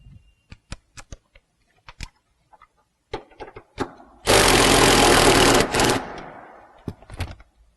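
An impact wrench zips out the front seat bolts of a Chevy/GMC truck, a loud close rattling burst lasting over a second, preceded by scattered sharp clicks and knocks of tools being handled.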